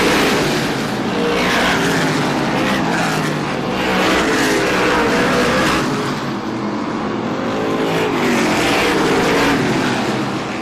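Race car engines roaring on an oval track during a late-model race, a loud, continuous, slightly distant drone rising and falling as cars pass.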